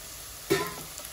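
Fennel seeds and spices hit hot oil in a short, sharp sizzle that flares up and then settles, heard alone and close.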